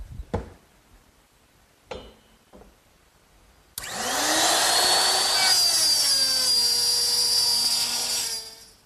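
Router cutting a female dovetail slot in wood for a chair table, starting abruptly after a few faint knocks and running as a loud, steady high whine that slowly drops in pitch before stopping.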